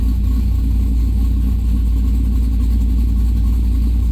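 A Chevrolet F-body car engine idles loudly and up close, a steady low rumble with no variation in pitch throughout.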